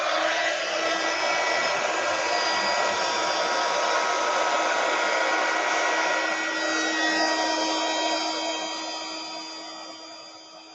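A heat embossing tool blowing over a chevron card gives a steady, loud whirring hum like a small hair dryer, holding constant for about ten seconds before tapering slightly as it pulls away.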